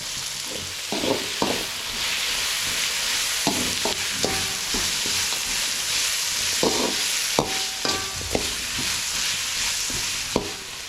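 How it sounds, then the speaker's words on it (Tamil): Onions and tomatoes cooking with ginger-garlic paste and salt in a pan for a snail gravy, a steady hissing sizzle punctuated by intermittent scraping and clinking stir strokes, close and without speech. "வெங்காயம் தக்காளி எல்லாமே வந்து நல்லா வதங்கிடுச்சு"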